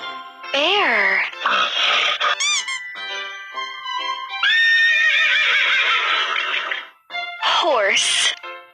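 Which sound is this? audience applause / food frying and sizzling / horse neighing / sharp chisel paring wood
horse neighing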